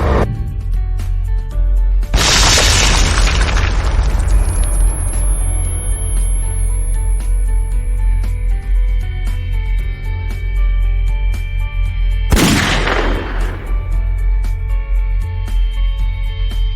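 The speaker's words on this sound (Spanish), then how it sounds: "unos segundos más tarde una segunda explosión hizo volar por los aires la losa del reactor" A nuclear reactor explosion sound effect: two sudden, loud broadband blasts about ten seconds apart, each bursting out and then decaying, above a constant deep rumbling drone with a high ringing tone.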